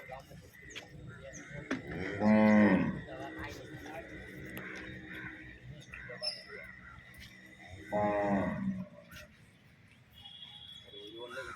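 Holstein Friesian dairy cows on a farm give two drawn-out moos several seconds apart, fairly close, with someone talking quietly in the background.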